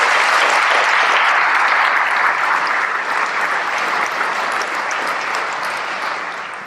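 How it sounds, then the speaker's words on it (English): Dinner audience at an annual chamber of commerce awards event gives a loud, sustained round of applause as a presenter comes forward, dense clapping that fades gradually near the end. "We can have a round of applause for Dane"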